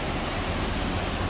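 River water flowing steadily beneath a bridge where people live in makeshift plastic shelters, a continuous broadband rush with no breaks, moderately loud and close.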